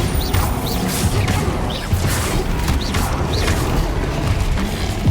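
Bombarda spell blasts in Hogwarts Legacy: a rapid series of loud crashing impacts and thuds with bright rising whooshes, repeating roughly every half second amid continuous combat clatter.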